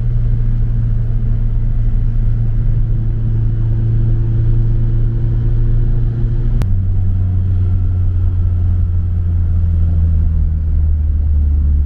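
A Citroën C6 fitted with a stainless steel exhaust line drones steadily from inside the cabin as a low, continuous rumble, with one sharp click partway through and a slight shift in engine pitch afterward.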